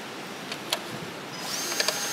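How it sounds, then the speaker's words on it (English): A tool tightens the bolts that join a transmission to an engine at BMW's Chennai car plant, giving faint clicks and then a brief whirring buzz with sharp ticks in a quiet hall. "you need to hand over the tool for Sachin to tighten the bolts"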